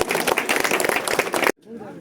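A crowd at a political gathering in India claps loudly to welcome minister Jaleshwar Mahato, a dense burst of applause that cuts off abruptly after about a second and a half.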